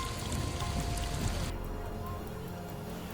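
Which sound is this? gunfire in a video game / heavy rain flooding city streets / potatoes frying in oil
heavy rain flooding city streets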